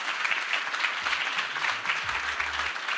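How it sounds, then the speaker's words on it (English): Audience applause at a winter startup founders' showcase, steady dense clapping from a crowd, loud and continuous throughout. "Give me a round of applause"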